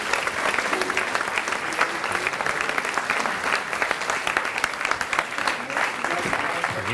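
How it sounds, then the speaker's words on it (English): A crowd at a 2018 graduation ceremony applauds a sixth-form tutor group, continuous, busy clapping at an even level throughout, with a faint murmur of voices beneath. "a massive round of applause to Upper 6B Ed's Tutor Group"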